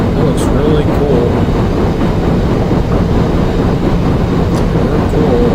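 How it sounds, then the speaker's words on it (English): A CP Royal Hudson 2860 steam locomotive in the Open Rails train simulator rumbles steadily with a loud, continuous rolling roar and rail clatter on the run over Kicking Horse Pass. "Actually a really nice steam locomotive."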